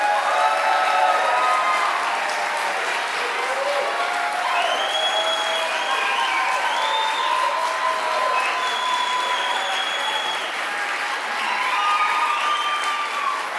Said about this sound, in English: can you guys please welcome our 3 candidates with a round of applause